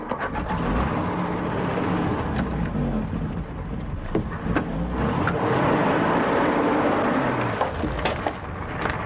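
A car drives off to follow a hearse, giving a steady, close engine rumble with shifting pitch as it pulls away, mixed with scattered knocks and rattles.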